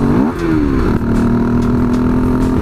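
A KTM Duke 390 motorcycle engine with a modified airbox rumbles close by, its pitch swooping up and settling into a steady, throaty idle with a rough, grunting texture.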